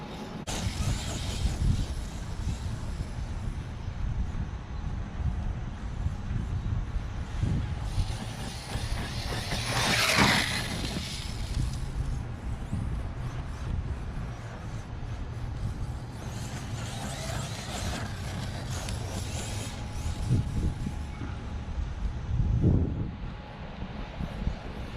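An Arrma Mojave RC car runs at full throttle down a straightaway, its motor whine rising and falling as the throttle eases off and opens again, heard from a distance against wind and background noise.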